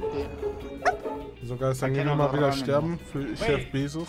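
A dog barks and yips in the background while someone talks over it, a few short sharp barks and whimpers scattered under the speech at moderate distance.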